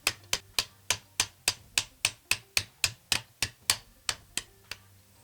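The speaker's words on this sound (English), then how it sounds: "Take your hinge pin, put it in like that. Kind of take some pressure off and just tap it into place." Light hammer taps seat a shotgun hinge pin into place, about fifteen sharp, evenly spaced metallic knocks in steady rhythm, close and clear with no talking.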